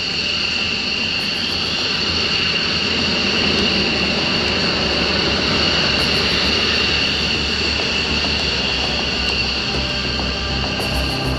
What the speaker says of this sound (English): it's always a thrill to feel the afterburner kick in and accelerate you down the runway, accelerating to takeoff speed